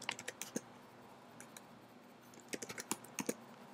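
Code for a Unity game's start-page GUI is typed on a computer keyboard in two quick bursts of soft, close key clicks separated by a quieter pause, faint over a light background hiss.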